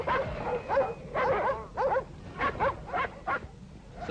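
A Šarplaninac (Karabash) livestock guardian dog barks and yelps close by in a quick, irregular series of about eight or nine short, sharp calls with brief gaps between them.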